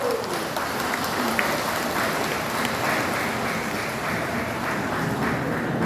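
Steady, dense applause from a large audience at a Korean vice minister of defense's address, sustained at an even level throughout with no speech over it.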